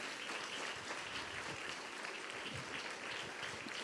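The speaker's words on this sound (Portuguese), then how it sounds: "Nós vamos receber o pastor Ubiratã aplaudindo o nome de Jesus." A church congregation applauds to welcome a preacher to the stage, a dense, sustained clapping from many hands that fills the room evenly without letting up.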